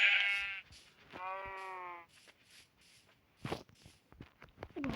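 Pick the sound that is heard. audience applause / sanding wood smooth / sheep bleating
sheep bleating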